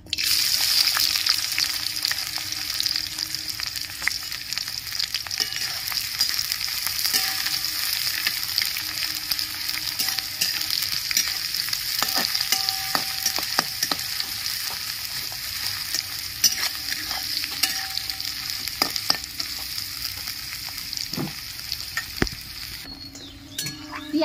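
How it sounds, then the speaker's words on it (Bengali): Onions fry in hot oil in a kadai for a jackfruit biryani, a loud, steady sizzle close up that lasts throughout, broken by occasional clinks and scrapes of a stirring spoon. "পেঁয়াজটা আমি ভেজে নিচ্ছি।"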